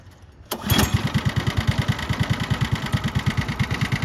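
An original Tony Kart go-kart engine fires up after a quiet moment and settles into a loud, close, rhythmic idle with an even, rapid chugging pulse.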